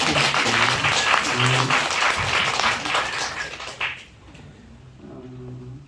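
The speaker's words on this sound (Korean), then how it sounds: "다 함께 같이 박수 한번 주십시오." Seminar audience at a Korean academic conference on feng shui and fortune-telling philosophy applauds in a dense, sustained burst that fades around the midpoint, followed by a quieter stretch with some low murmuring voices.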